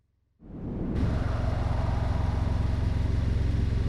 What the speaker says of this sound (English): When Nolan heard the sound of a boat engine nearing the bank